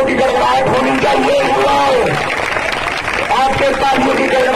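An outdoor crowd applauds during a ceremonial lamp lighting at a Bhagat Singh martyrs' day marathon event in Maner, with loud continuous clapping mixed with crowd chatter and talking voices.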